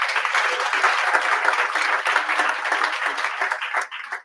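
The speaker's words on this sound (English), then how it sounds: "So big round of applause for those folks that are continuing to do that." At a WalkMassachusetts annual celebration, an audience applauds regional planning staff. Sustained, dense clapping fills the room evenly for about four seconds, then tapers off abruptly as the last hands stop.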